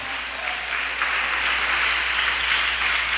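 Church congregation applauding at a sermon, steady sustained clapping of a crowd filling the room without pause, fairly loud and even throughout.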